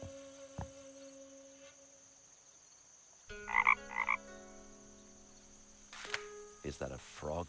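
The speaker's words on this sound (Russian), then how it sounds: "Is that a frog I hear?" Frog croaks in the video game The Night of the Rabbit come as a few short, sharp double calls over a faint ambient hum, with scattered clicks and tones from the game.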